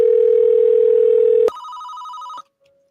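A loud steady electronic tone gives way to a higher warbling telephone ring, which cuts off abruptly, leaving near silence.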